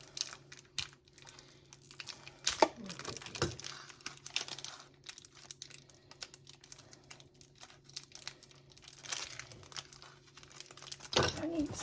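Crinkly plastic wrapper of a Butterfinger candy bar being torn open in a kitchen while making peanut butter pie, with close crackling rustles and a few sharper tearing bursts, with a voice speaking briefly.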